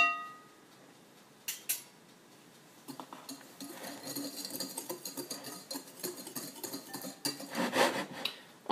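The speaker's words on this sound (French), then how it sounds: "On incorpore le sucre et la farine. On mélange et on va y ajouter la levure chimique." Sugar, flour and baking powder being mixed in a bowl for push cake batter, with soft scraping and clinking of a utensil against the bowl, growing busier and louder toward the end, no speech.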